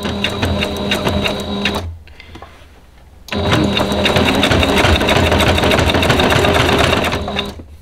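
A sewing machine back stitches a rope basket in loud, fast, rapid-fire bursts, pausing briefly in the middle before running steadily again, with no voices.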